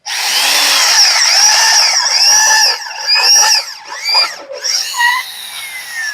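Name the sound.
homemade conical drill bit cutting an Eaton axle cone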